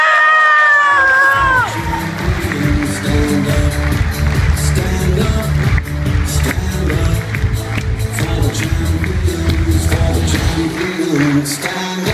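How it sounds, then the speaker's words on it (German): Crowd at a first-place award ceremony in Hartberg cheering, shouting and clapping loudly and continuously for about ten seconds after a brief voice at the start, with a dense band-like musical backing underneath. "Holen wir sie mit einem ganz, ganz großen Applaus auf die Bühne herauf"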